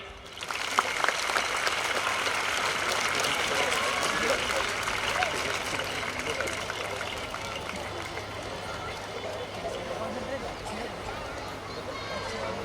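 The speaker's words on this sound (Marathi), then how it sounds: "टाळ्या वाजवा रे." An audience at a school gathering at Baglan Best English Medium School in Satana claps in sustained applause, with crowd murmur and a voice speaking over it.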